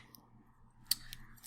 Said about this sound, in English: I need my scissors again.